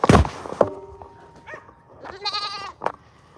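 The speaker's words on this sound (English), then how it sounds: "Fucking goat." A goat bleats nearby, loud wavering calls that rise and fall, with a sharp knock at the start and some shuffling noise between the bleats.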